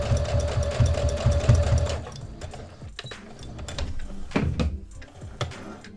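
A sewing machine runs steadily for about two seconds basting a small fin onto a shark stocking, then stops, followed by light handling and fabric-shifting sounds nearby.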